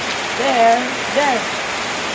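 Steady rain falls on surfaces in Mlang, Cotabato, a constant close hiss, while someone speaks briefly over it.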